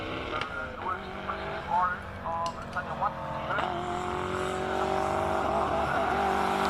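Toyota GR Corolla race car at a hill climb event, engine note rising and shifting through gears with possible tire squeal, continuous and fairly close, with a commentator talking over it.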